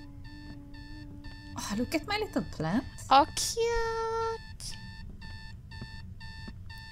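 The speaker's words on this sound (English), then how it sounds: "Let's go turn off this stupid alarm." In a video game, an alarm clock beeps in steady, evenly spaced electronic pulses. The beeping runs under a person talking in the middle and continues clearly once the talking stops.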